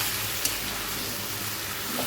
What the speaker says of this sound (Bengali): দেবার পর মশলার সঙ্গে লাউটাকে ভালো করে মিশিয়ে নেব।